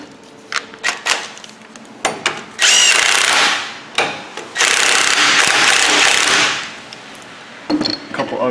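An impact wrench tightens a ball joint on a Ford F-250 truck. Short close bursts and two longer sustained runs of buzzing are heard, with brief speech between them.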